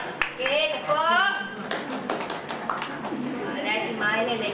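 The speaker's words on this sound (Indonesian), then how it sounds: "Okey, tepuk." Students clapping together in a classroom, a few sharp claps rising briefly amid teacher speech and classroom chatter.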